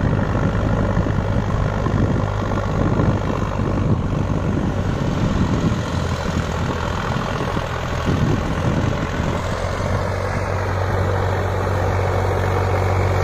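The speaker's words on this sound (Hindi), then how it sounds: "बहुत अच्छा चल रहा ट्रैक्टर" A New Holland 3630 tractor with a rotavator attached runs nearby, its diesel engine giving a steady, loud, even drone with no breaks for the whole stretch and no voices over it.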